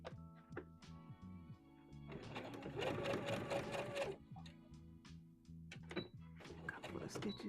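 A sewing machine stitches dress fabric in short bursts of rapid, even mechanical chatter, close by, with pauses between runs and a person speaking quietly in between.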